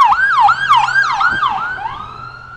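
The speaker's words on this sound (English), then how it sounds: "We got the ambulance coming." An ambulance siren wails loudly and close by, repeating rising and falling sweeps about twice a second before it settles into a steadier tone.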